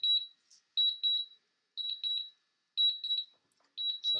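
Return-to-home alert from a DJI Mavic Pro drone: shrill, high electronic beeps in clusters of three or four, repeating about once a second, loud and close with no talking.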